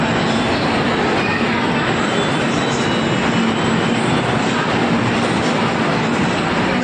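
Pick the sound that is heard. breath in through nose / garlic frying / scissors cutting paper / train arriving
train arriving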